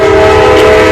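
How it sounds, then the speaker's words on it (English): A train horn blares as a loud, steady sustained tone that runs unbroken from start to end, with no voices over it. "We have the train. All aboard."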